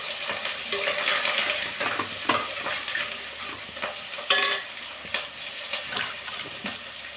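Vegetables sizzle and fry steadily in a hot pan with rock salt, brinjal among them, with intermittent scraping stirs and clinks of a utensil throughout, close and fairly loud with no talk.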